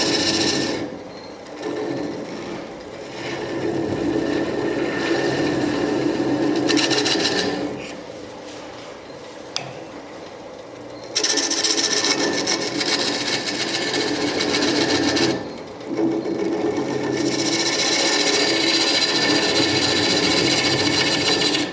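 A wood lathe spins a turned piece at slow speed while a chisel scrapes glue off it, giving a steady, fairly loud rasping scrape near the mic that pauses briefly twice and resumes, with no talking.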